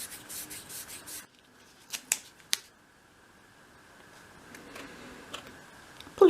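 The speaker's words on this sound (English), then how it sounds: "I'm going to put a bit of masking tape straight over the top" Masking tape on a 1/12th scale dolls house cupboard: a fast ripping pull at the start, then a few sharp ticks and soft rubbing and pressing, close and fairly quiet.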